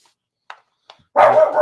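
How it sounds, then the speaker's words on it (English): A dog lets out two short, soft yips, then a single loud, close bark after a brief pause, with no speech. "Of course, she's gonna bark."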